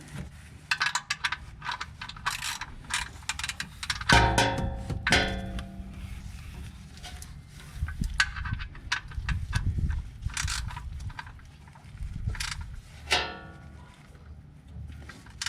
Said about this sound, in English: So I screwed in the drain plug with the new crush washer.